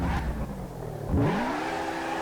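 The Ford Mustang Hoonigan's engine drones loudly as it drifts around a small circuit with linked bends, and the pitch climbs in a sudden rev partway through.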